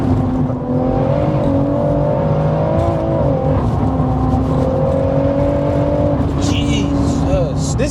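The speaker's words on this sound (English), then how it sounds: "This is a 200 mile an hour car, isn't it?" A 730bhp big-turbo BMW M140i accelerates hard, its engine droning steadily with rising and falling pitch throughout, heard from inside the car with occasional voices.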